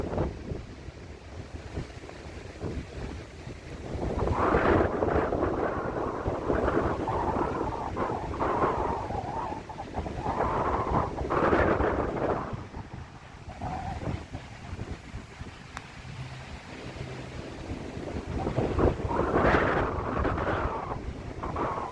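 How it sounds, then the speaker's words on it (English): Steady wind gusting across an open golf course, a broad roaring rush that swells and eases in waves and buffets the microphone, with no voices present. "Wind's picking up."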